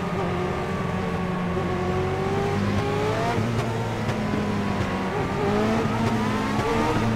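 Race cars in a sim racing game, several engines revving and droning together at close range, with shifting pitches as they accelerate and pass, continuous and loud with faint tire squeal.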